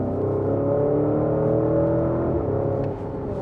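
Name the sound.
Porsche SUV engine revving while driving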